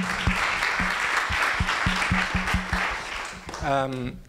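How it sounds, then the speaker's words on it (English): Audience applause for the organizers at a smart-cities civic tech meetup, a steady wash of clapping from a crowd lasting several seconds, with faint voices talking over it and a short spoken remark near the end. "So some applause maybe for."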